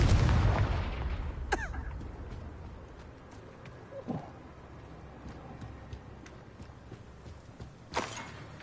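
A Confringo blasting spell going off in Hogwarts Legacy: a loud burst at the start fading into rumble, followed by smaller pops and a sharp crack near the end, with faint crackling in between.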